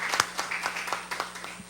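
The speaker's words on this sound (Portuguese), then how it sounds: "uma salva de palmas" Scattered, light hand claps at a public hearing of a municipal roads and urban works committee, a few distinct claps spread unevenly over a quiet room.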